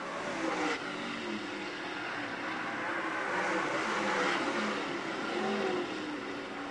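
Lucas Oil late model dirt race cars roar down the back straightaway at Utica Rome Speedway, a dense continuous engine drone that swells and fades as the cars pass, heard from a distance.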